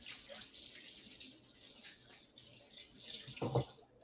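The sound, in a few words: water running from tap while washing hands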